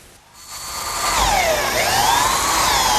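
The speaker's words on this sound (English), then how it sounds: "now I can switch to a 3/8 inch diameter bit and drill a hole all the way through for the bolt" A power drill fitted with a 3/8 inch bit bores a hole through picnic table wood for a carriage bolt. The motor spins up after a brief quiet start and holds a loud whine with shifting pitch.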